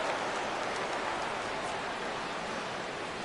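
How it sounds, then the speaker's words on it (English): Steady rain falls at a baseball game in MLB The Show 17, an even hiss of broadband noise that holds at the same level throughout. "Rain continues to fall here in the 6th."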